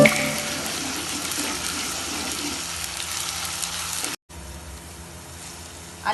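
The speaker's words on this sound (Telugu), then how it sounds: "అల్లం పచ్చివాసన పోయే వరకు వేయించుకొని" Ginger garlic paste fries in a pan for mushroom curry, giving a steady, dense sizzling hiss that runs almost without a break and then carries on more softly after a short gap.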